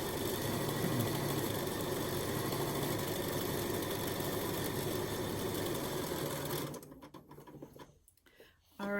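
A sewing machine stitches a fabric face mask, running in a steady continuous whir for most of the time before stopping, leaving brief quieter handling noises.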